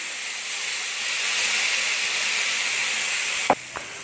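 Tomato and chili puree hits hot oil with mustard seeds and cumin in a pan, raising a loud, steady hiss and sizzle close by, followed by a couple of short utensil knocks at the end.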